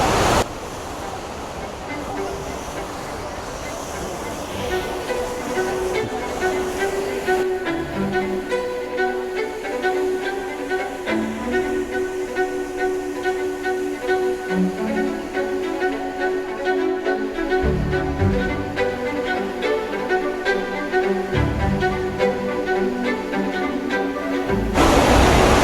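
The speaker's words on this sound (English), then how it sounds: "this is a Trevi fountain, and it's been pretty packed the whole entire time we're here" Water splashes steadily at the Trevi Fountain in Rome, a continuous rushing wash outdoors with crowd murmur and wind noise mixed in.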